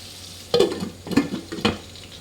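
Prawn biryani mixture frying in a pot made with Godavari prawns: a low sizzle with three distinct scraping stir strokes in quick succession, close and fairly loud.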